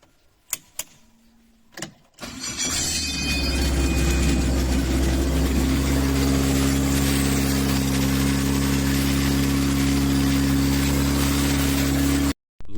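A modified Honda L15B engine, rated at 300 horsepower and built into a homemade aircraft, starts after a few clicks and then runs loud and steady in a deep, even drone, close by, until it cuts off abruptly.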